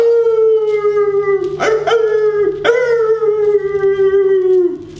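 Voices imitate a wolf howl together in a French storytelling session of fables, sustained and loud for about five seconds with a steady pitch, broken by brief bursts of other noise midway.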